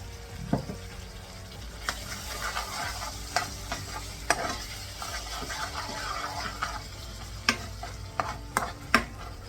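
Tomato paste and tikka paste cook down in a pan for a chicken bhuna, sizzling softly and constantly while a spoon stirs and knocks against the pan in scattered sharp clicks.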